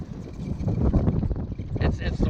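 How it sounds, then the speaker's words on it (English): Cold wind buffets the microphone at a prairie park campground, a loud, uneven rumbling gust throughout with a voice talking over it. "It's the wind that makes it feel so cold."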